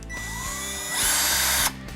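A Ryobi ONE+ 18V cordless percussion drill runs steadily close by, its motor whine rising briefly in pitch before settling back, with no talk over it.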